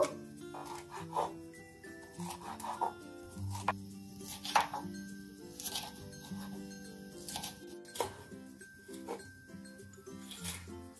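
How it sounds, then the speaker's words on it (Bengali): A large capsicum sliced with a knife on a board, a series of irregular close taps and cuts over faint background hum and clatter. "ক্যাপসিকামটা আমি স্লাইস করে কেটে নেব"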